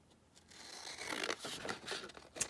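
Scissors slice along the edge of folded paper being trimmed to pocket size, a close, crisp rustling cut building over a couple of seconds, with a sharper snip near the end.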